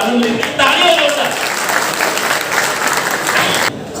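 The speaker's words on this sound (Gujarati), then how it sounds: "તાળીઓ જોરદાર." Loud, dense applause from the audience at a Samast Brahman Samaj honours ceremony in Navi Mumbai rolls on steadily for several seconds before cutting off, with voices mixed into the clapping.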